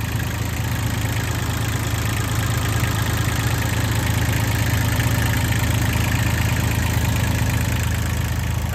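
A Kubota three-cylinder diesel engine on a SAKAI TG25 road roller idles steadily nearby, a constant low rumble with a fine rhythmic knock that holds unchanged throughout.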